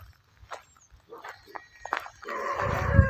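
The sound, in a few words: dogs barking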